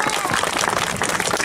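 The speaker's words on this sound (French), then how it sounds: "Merci de les applaudir tous encore une fois chaleureusement." Warm applause from an audience at the republican christening of the giant Gilles de Baisieux, a brief burst of dense clapping close by, with faint crowd murmur mixed in.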